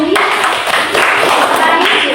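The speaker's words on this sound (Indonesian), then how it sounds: "Tepuk tangan untuk mereka" Classroom applause for students after they finish a presentation on the respiratory system in a micro-teaching lesson, a dense steady wash of many hands clapping that carries on throughout.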